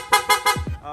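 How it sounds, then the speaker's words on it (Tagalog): Loud aftermarket horn on a Yamaha Sniper 150 motorcycle sounds in three quick close blasts, with two short lower-pitched toots trailing after them. "Tapos yung loud horn."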